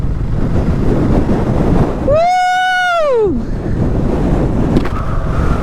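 Strong coastal wind at Dhanushkodi roars and buffets the microphone continuously, blowing sand, loud and close, with a brief rising-and-falling whistling tone cutting through midway.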